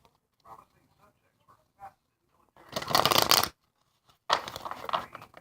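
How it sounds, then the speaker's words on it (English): Two bursts of cards being riffle-shuffled, crisp rapid fluttering close by, separated by quiet pauses and a few soft handling clicks. "A few more shuffles."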